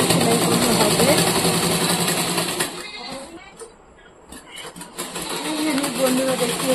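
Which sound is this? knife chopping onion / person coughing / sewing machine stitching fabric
sewing machine stitching fabric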